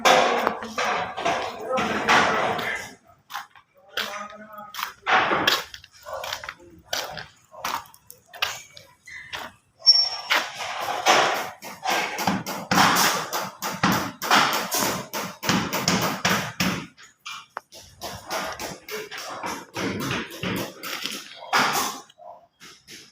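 Repeated hammer blows on a house under construction, irregular sharp taps and thuds in bursts with short pauses, fairly close, with people talking in between.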